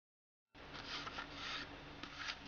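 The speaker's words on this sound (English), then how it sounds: "I'm now going to cut these pieces off." Scissors cut pieces of cardstock off a folded card, producing a quiet, close, rasping crunch in a few slow strokes after a brief silence.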